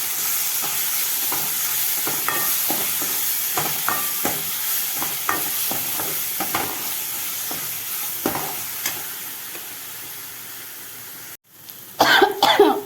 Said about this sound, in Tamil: அது கொஞ்சம் பச்சை வாசனை போகிற அளவுக்கு நம்ம வதக்கிக்கிறோம்